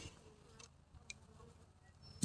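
Bees hum faintly during a hive installation, a low, steady insect drone with a few light clicks and taps near the end, quiet and without talk.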